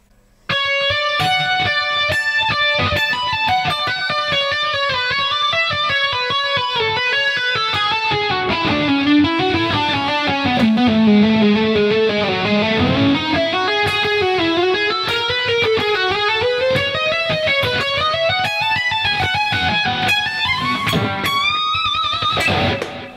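Electric guitar solo from a song, played slowly with flowing legato and hybrid picking, sustained lightly distorted notes gliding through a long continuous melodic line, loud and close with no talking.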